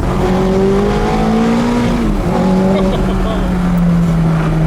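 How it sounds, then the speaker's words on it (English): A 490 hp sports car's exhaust, valves open, drones loudly from inside the car, engine pitch rising and dropping with gear changes, with a low burbling rumble throughout. "As you get that little like brr, with the valves open up in the exhaust."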